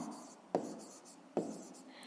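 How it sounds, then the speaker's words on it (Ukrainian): A pen writes on paper during a fifth-grade math exercise, a quiet scratching with two distinct taps as strokes begin, close up with no voices. "Отже, пишемо сума"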